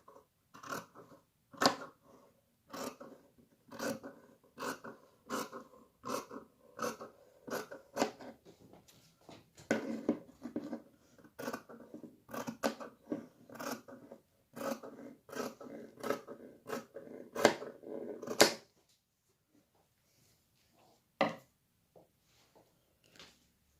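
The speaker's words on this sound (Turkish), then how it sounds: "Bu taraftan da bir parmak bırakıp böyle kesiyorum." Scissors snip repeatedly through bag lining fabric for a macramé bag, a steady run of crisp close cuts, then a pause and a couple of isolated snips.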